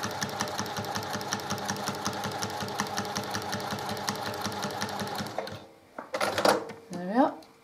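A sewing machine with a walking foot stitches along a quilt seam in a fast steady rhythmic whir, then stops abruptly near the end, followed by brief handling clatter and a voice.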